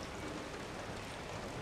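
Steady rainfall in a video game, a soft, even hiss of many droplets spread evenly throughout, fairly quiet and with no speech.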